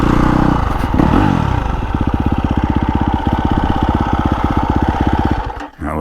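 A 2021 KTM 350 Kailub Russell Edition dirt bike engine revs up close, then settles into rapid, evenly pulsing firing strokes before dropping off and flaring again at the end.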